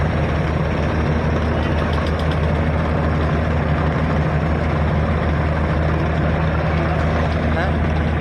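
A large passenger launch at a Bangladesh launch ghat idles with a loud, continuous low engine drone that stays steady and close throughout.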